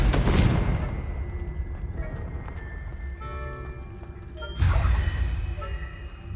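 Confringo blasting spell cast in Hogwarts Legacy: an opening burst, then a duller rumble with scattered tones, and a second sharp blast hits near the end, loud and close, with no talk over it.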